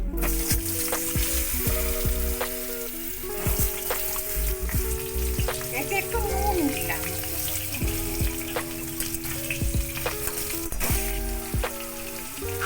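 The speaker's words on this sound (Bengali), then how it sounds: "আমটা ভাজা হয়ে গেছে" Raw mango pieces fry in oil with a dried red chilli, following fenugreek, for a light mango-and-potato fish curry, a steady close sizzle with intermittent clinks and stirring while a voice speaks briefly over it.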